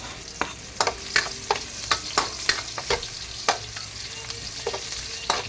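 Garlic sautéing in a pan, a continuous sizzle of frying broken by sharp repeated scrapes and clacks of a utensil stirring against the pan at a close, irregular but frequent rhythm.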